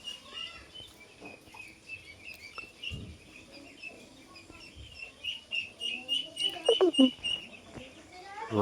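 Eighteen-day-old Khaki Campbell ducklings peep in a steady chorus of thin, high calls after a night storm, growing louder and busier toward the end, with faint background talk.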